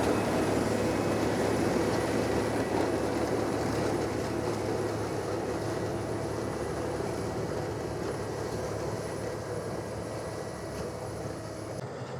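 A large self-propelled sugar beet harvester unloads its crop into a trailer in a field, a steady loud machine drone with constant engine hum and a rushing clatter of beets, no voices.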